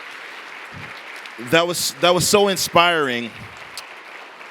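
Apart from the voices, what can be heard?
audience applause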